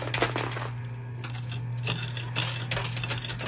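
Quarters clattering and jingling as they drop onto metal in an arcade coin pusher machine, a dense metallic rattle over a steady low machine hum, fairly close and continuous.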